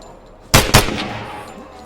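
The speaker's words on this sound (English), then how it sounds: "That's that auto shotty that I talked about in my mod video." Two quick, loud blasts from an automatic shotgun in a video game, about a quarter second apart, close up, each followed by a short ringing decay, with no talk.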